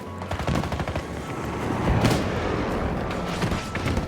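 Rapid automatic gunfire in Battlefield 2042, loud close bursts of shots with heavy low thumps, firing steadily across the moment with brief surges.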